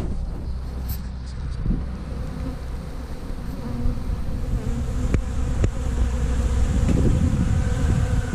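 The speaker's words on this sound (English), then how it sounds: "while you're listening to the chickens and the bees fly" Honeybees buzzing around feeders in a sunny apiary, a steady close swarm drone that holds throughout with light wind rumble on the microphone and no talking.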